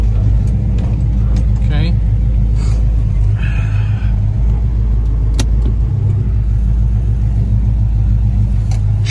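A 1972 Chevelle with a 454 engine idles steadily with a deep, continuous rumble while being shifted into reverse, up close and loud, with a few brief mechanical clicks and a short spoken word over it.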